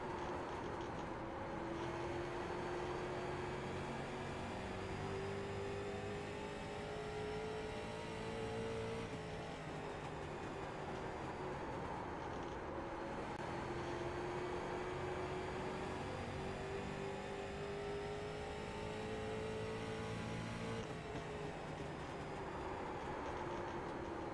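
A race car engine in a sim racing game driven with a Fanatec CSL DD direct-drive wheel, a steady droning whine that rises in pitch, drops at shifts and climbs again, continuous and moderately loud with no talk.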